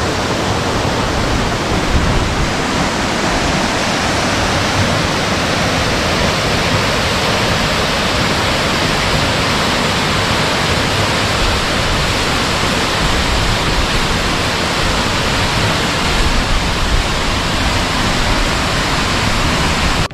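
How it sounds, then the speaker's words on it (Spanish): Los Bronces waterfall near Puerto Williams, Chile, pours in a loud, constant roar of rushing water, unbroken and close, with no voices. "Esto es la cascada Los Bronces."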